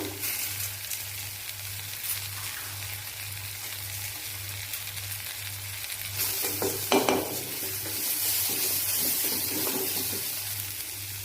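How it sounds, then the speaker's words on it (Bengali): A spice mixture frying in a pan, with a steady close sizzle and spatula scraping and stirring, the hiss growing louder and brighter toward the end; no voices. "কিছুক্ষণ নাড়াচাড়া করে মশলাটাকে বেশ ভালো করে আনবো"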